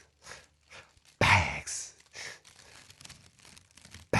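Loud crinkling of plastic bags in bursts, with a sharp rustling surge in the middle and quieter crackles around it, close to the listener.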